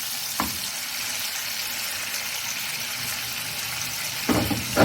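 Raw minced-meat cutlets sizzle steadily in a pan over a low-medium flame, a constant soft frying hiss with a couple of brief clinks at the start and end.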